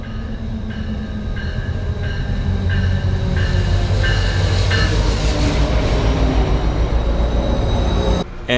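A Metrolink commuter train rumbles past close by with a steady, loud roar. Repeated tones chime early on, and a brief clunk comes near the end.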